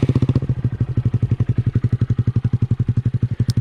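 Honda Grom motorcycle engine idling through a cheap aftermarket exhaust with the baffle removed, a loud, deep, steady rapid thumping pulse close by throughout, with no talk.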